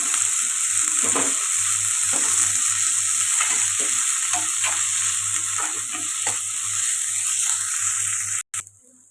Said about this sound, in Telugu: అల్లం వెల్లుల్లి పేస్ట్ అయితే ఒక స్పూన్ దాకా వేసుకున్నాం ఇది పచ్చివాసన పోయేదాకా ఫ్రై చేసుకుంటాం